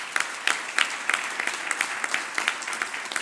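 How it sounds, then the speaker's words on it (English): An audience at a youth work awards event claps steadily, a dense even patter of applause throughout with no voices over it. "So give them a wee round of applause."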